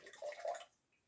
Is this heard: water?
yes